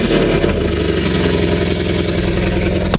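Lamborghini Huracan, a wrecked car brought back, starting up with a loud, steady engine roar that holds throughout with no speech, then cuts sharply near the end.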